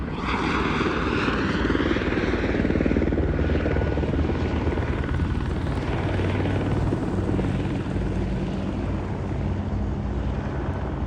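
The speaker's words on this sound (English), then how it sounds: "Let's give you a look at this police helicopter." A police helicopter's rotors thump and roar continuously overhead, loud and steady throughout.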